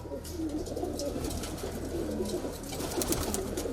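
A medium-sized, home-bred male kalpare high flyer pigeon coos in soft, repeated rolling calls close by, over a low background hum.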